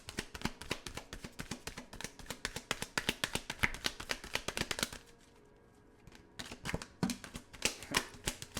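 Oracle cards are shuffled by hand close up, giving rapid crisp riffles and taps in a dense rhythmic flurry. After a short pause the shuffling resumes as cards are pulled from the deck.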